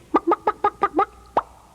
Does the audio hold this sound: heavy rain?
no